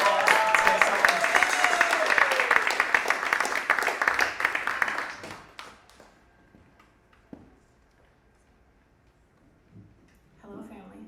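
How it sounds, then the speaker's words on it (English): Audience applause for a singer named Ariel at a church gathering, a dense, steady wash of clapping for about five seconds that then quickly thins out into a few scattered claps and near silence. "Let's give Ariel a big hand of applause for this next song."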